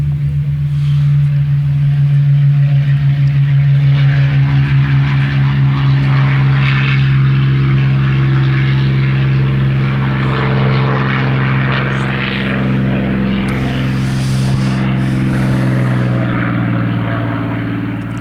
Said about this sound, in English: Here goes a Spitfire.